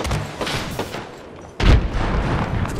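A grenade explodes in Apex Legends amid gunfire: steady shots and rattle, then a sudden loud, deep blast at about the midpoint, followed by continued shooting and debris-like noise.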